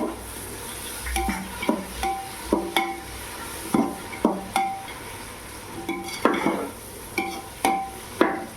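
Ginger and garlic fry in oil and ghee while a metal spoon stirs them, making a steady low sizzle broken by a regular series of sharp scrapes and clanks against the pan, all close up with no voices.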